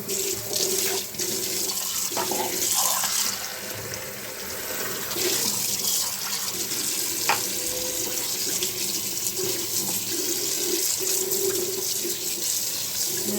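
Tap water runs steadily into a kitchen sink during washing, a continuous near splashing stream with small clinks of dishes or hands, and no talk.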